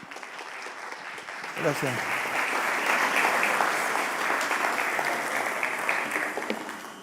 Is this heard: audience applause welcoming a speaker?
yes